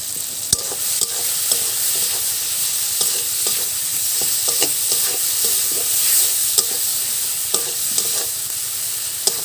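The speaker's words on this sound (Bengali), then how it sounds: "মশলাটা কষে নেব টমেটোর সাথে।" Spices with salt and turmeric being stir-fried with tomato in a pan for a Banarasi tomato chaat, a steady sizzle under repeated scraping clicks of a spatula, close and fairly loud throughout, with no talking.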